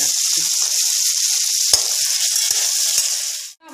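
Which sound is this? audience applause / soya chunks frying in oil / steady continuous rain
soya chunks frying in oil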